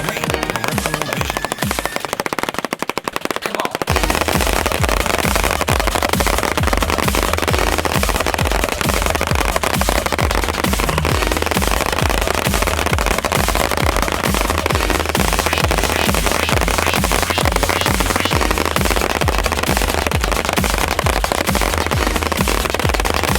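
A Hornet slingshot fired in rapid succession, a dense, loud, continuous crackle of snapping shots and impacts at close range, sustained without pause.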